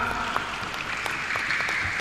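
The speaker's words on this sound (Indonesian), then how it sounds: "Tepuk tangan untuk Regu A." Applause for team A at the final of a women's Quran quiz competition, steady, fairly faint clapping from an audience in a hall, with no voices over it.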